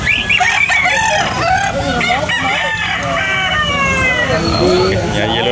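Gamecock roosters crow repeatedly and cluck nearby, the loud rising-and-falling calls overlapping one another above a murmur of people talking in the background.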